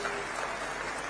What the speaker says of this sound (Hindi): तालियों के साथ बृजमोहन जी का स्वागत करेंगे